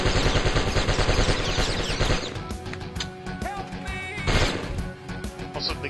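Automatic M16 rifle fire in the PlayStation game Die Hard Trilogy: dense, loud bursts of rapid shots for about two seconds, then scattered single gunshots, clatter and crashes, with a second heavy burst near the end.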